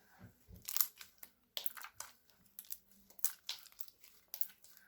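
Crisp crackling and crunching bursts come in short irregular clusters, close up and fairly quiet, with brief silences between squeezes.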